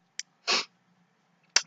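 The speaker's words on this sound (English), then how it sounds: "forgive me for sneezing now and again" A person sneezes indoors, giving a short burst of breathy noise framed by two quick sniffs or intakes of breath, otherwise quiet.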